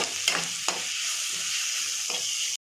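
Ground masala and browned onions sizzling in a pan, a steady loud hiss broken by two or three quick scrapes of a stirring spoon, close up and with no talking.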